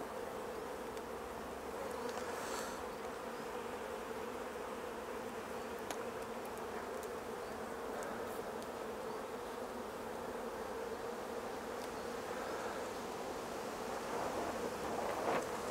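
Honey bees buzz continuously at an open hive in a dense, steady hum, close and moderately loud, with occasional single bees droning nearer, no voices; the colony has chronic bee paralysis virus.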